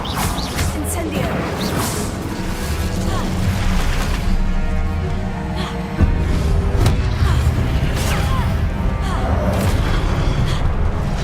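Spell-casting blasts from the fire spell in Hogwarts Legacy, a run of booming, crackling bursts over a continuous dense game soundscape, with the player's voice shouting over the action.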